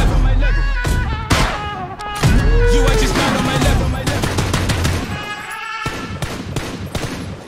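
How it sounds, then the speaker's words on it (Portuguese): A video game firefight unfolds with rapid, loud gunshot bursts and sharp single shots cracking close, mixed with game music and a voice talking over the action. "Os tiros fazem parte da música."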